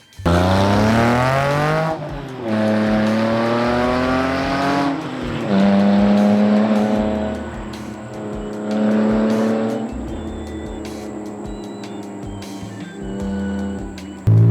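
A Porsche 911 Slantnose with a rebodied build drives hard, its flat-six engine revving up through several gears in rising sweeps with brief drops between shifts, loud and close with no talking.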